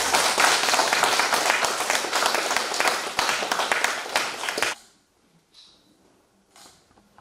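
A room full of people applauding a hospital director after a lecture at a church medical volunteer event, dense clapping for about five seconds that stops abruptly, followed by near silence with faint sounds.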